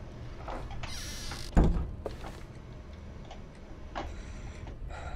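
A clock ticking in Minecraft, its soft, regular ticks sounding fairly close against quiet game ambience, with a brief louder knock near the middle.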